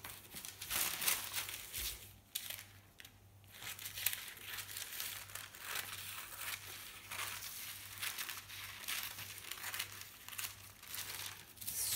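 Scissors cut through fabric along a drawn straight line for a raglan blouse sleeve, a faint, steady crunchy snipping and rustle that continues for about twelve seconds in a quiet room.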